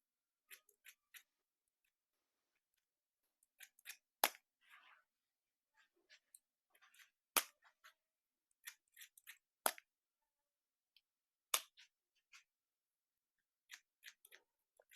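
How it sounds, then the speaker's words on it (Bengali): Scissors snip through a man's hair during a haircut, giving sharp, close metallic clicks in scattered bursts and short runs with quiet gaps between them, and no talking. "আমি বাড়তি চুলগুলো কেটে দিচ্ছি"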